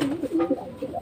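Racing pigeons coo in a loft, with several soft, throaty coos rising and falling close by over about a second, no talk.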